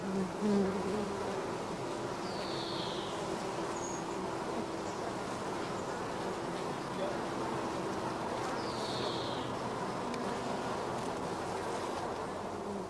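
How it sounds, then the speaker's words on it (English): A dense, steady hum of honey bees buzzing inside a swarm box, continuous and close, with a couple of brief higher whines rising over the drone. "we brush the young bees off several frames of brood"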